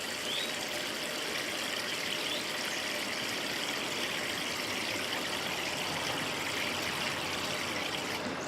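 Continuous rushing water pouring through potted plants during a second morning flush, a steady close hiss and trickle with no breaks and no talk.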